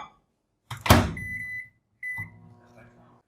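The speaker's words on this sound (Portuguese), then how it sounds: "Então vou colocar lá no micro-ondas." A microwave oven heating white chocolate: a sharp clunk as the door shuts, a steady whirring hum with a faint beep, then a pause and a second stretch of running hum.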